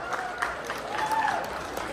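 Audience applause with a lively crowd clapping steadily for about two seconds, loud and close, with some voices mixed in.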